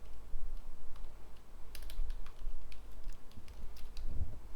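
Code being typed on a computer keyboard: quick, irregular bursts of light key clicks at close range over a low steady room hum, with no voices.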